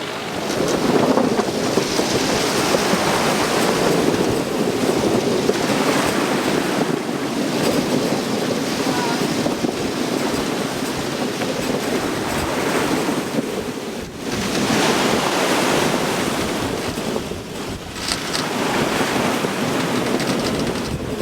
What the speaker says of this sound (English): the Squall hadn't had enough time to kick up a large swell, so we were able to simply enjoy the ride.